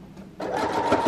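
A sewing machine starts up and runs briefly, stitching through a paper junk journal page, a close mechanical whir rising out of quiet.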